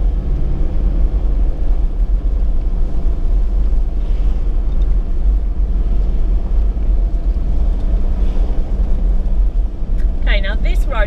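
A vehicle drives along the Ferguson Saddle Track in Goulburn State Forest, Victoria, making a constant, loud low rumble of engine and rough track, with a person talking over it toward the end.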